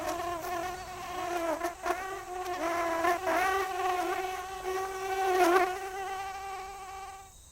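Insects buzz around oil palm flowers in a plantation, a close, loud, wavering whine that rises and falls as they move about.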